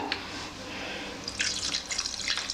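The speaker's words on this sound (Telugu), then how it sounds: "వాటర్ ఉడకాలి కాబట్టి ఒక హాఫ్ గ్లాస్ పోసుకుందాము" Half a glass of water is poured into a pot of mutton curry, splashing and gurgling, getting louder and busier toward the end after a few soft drips.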